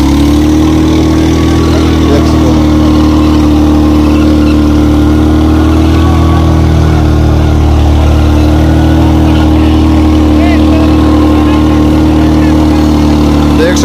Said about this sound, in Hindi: देख सको ट्रैक्टर सही चल रहा है